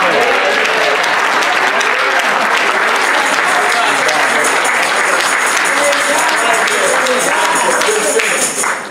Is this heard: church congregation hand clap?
yes